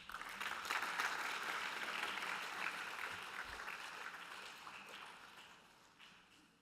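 Conference audience applauding, a steady wash of many hands clapping at moderate distance that slowly fades out over several seconds.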